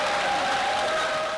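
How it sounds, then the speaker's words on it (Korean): Audience applause at the 2012 Disabled People's Culture & Art Festival, a dense, steady burst of many hands clapping without a break. "연이어 터져나오는 박수갈채에 행사장은 더욱 달아올랐습니다"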